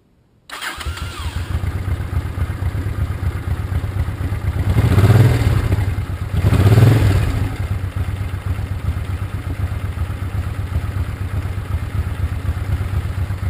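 A 1983 Honda Shadow VT500 motorcycle engine cranks and fires up after an oil change, then settles into a steady, close rumbling idle with two brief throttle swells, and no one speaks.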